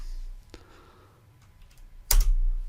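A short burst of computer keyboard keystrokes as a command is entered during AutoCAD 2024 design work, a quick cluster of close, crisp clicks after a quiet stretch with a single faint tap earlier.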